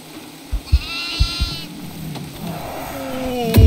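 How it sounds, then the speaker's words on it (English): Goats in the horror video game Devour bleat in a few drawn-out, wavering calls over a dark, rumbling game ambience with some low thuds, moderately loud and without talk. "There's like three goats."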